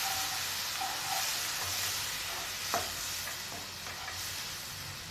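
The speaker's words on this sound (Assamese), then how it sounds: "এতিয়া এইখিনি মিক্স কৰি দিম ইয়াত মই অকণমান পানী দি দিম যাতে মছলাখিনি ভালকৈ ফ্ৰাই হয়" Masala sizzles and fries in a pan with a little water as it is stirred, a steady close hiss with a few soft scraping clicks, and no talking.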